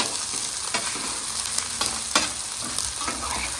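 Chuck eye steaks fry in a hot skillet with rendering beef fat, a loud, steady sizzle and crackle with scattered pops, close up and with no voices.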